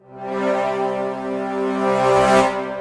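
Sustained orchestral chord that swells in loudness twice, a first push then a second rising surge near the end, without voices.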